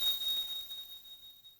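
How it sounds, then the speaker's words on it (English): A small, high-pitched metallic bell rings in the visual novel Never 7, a thin sustained tone that fades steadily from faint to fainter with nothing else heard. "It's a certain high-pitched metallic sound I know I've heard before."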